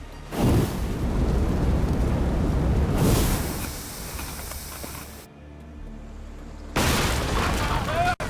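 Cannon fire from ships in Assassin's Creed Odyssey: heavy booming blasts with hissing, rumbling tails arrive in separate bursts, loud and close, alternating with brief quieter gaps.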